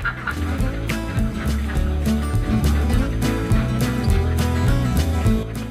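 A dense flock of egg-laying ducks on a farm quacking continuously in overlapping, busy calls, loud and close.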